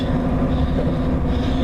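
Steady, loud rumble of a Southwest train heard from inside a passenger carriage, a continuous low drone of wheels and motion on the rails with no voices.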